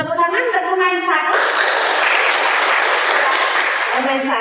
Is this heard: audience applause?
yes